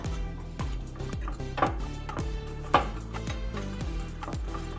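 Egg snack batter is mixed in a bowl, with a utensil striking the bowl in quick, ringing knocks in a steady, uneven rhythm.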